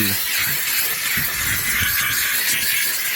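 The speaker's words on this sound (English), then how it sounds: "go ahead and steam down there" A steam cleaner hisses continuously as it steams a worn car interior during a detailing job, with a loud, steady jet and faint knocks and shuffles underneath.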